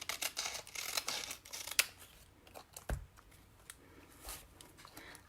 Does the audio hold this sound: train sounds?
no